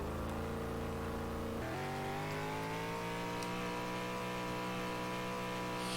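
A car accelerating in the video game Car Dealership Tycoon, its engine note climbing through a gear shift then holding a steady rising drone, close and loud with no talk.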